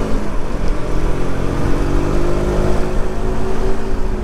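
A Monster motorcycle engine runs loud and close, with a steady powerful drone and slight swells, and no voices.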